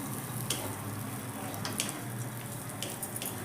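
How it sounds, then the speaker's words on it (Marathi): Dry fruits frying in a pan for Diwali khoya karanji, a steady low sizzle with faint clicks of stirring, heard close and alone with no talk. "ड्रायफ्रूट्स थोडे छान भाजून तळून घ्या"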